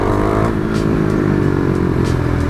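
A KTM 390 Duke motorcycle held at high revs in first gear during a power wheelie, a loud, steady, close engine roar with a slight dip and rise in pitch.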